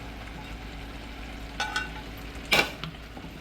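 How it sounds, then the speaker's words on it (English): Shrimp dropped into a hot pan of reused butter, giving a low steady sizzle with two brief louder bursts of splatter and stirring near the end, no talking. "So the shrimp is here I am going to add it now."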